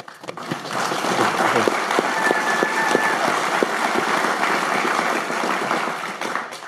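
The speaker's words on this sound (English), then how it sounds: "Round of applause" A crowd claps steadily for several seconds after praise for fund manager Peter Lynch, with the clapping dense and fairly close and no one speaking over it.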